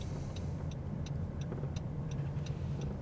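Car rolling slowly along the rows of an RV resort in Canyonville, Oregon, a low steady engine and road rumble with faint periodic ticks, no talking.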